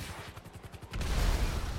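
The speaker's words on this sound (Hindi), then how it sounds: "वाओ इतने बड़े बड़े धमाके मैंने पहले कभी नहीं देखे।" Explosions boom in GTA 5, a rapid string of thudding blasts and gunfire that swells into a dense, roaring rumble with no speech.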